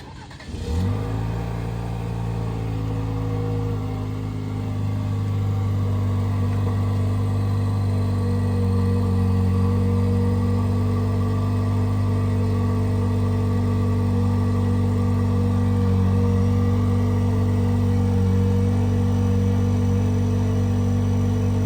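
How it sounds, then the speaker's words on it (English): Cold start of a 2023 Chevrolet Colorado ZR2 with a new aftermarket exhaust: the engine catches with a quick flare, then settles into a loud, steady, deep idle that stays close and continuous throughout, with no talking. "I'm gonna go ahead and get a cold start clip on the new exhaust setup on the Colorado."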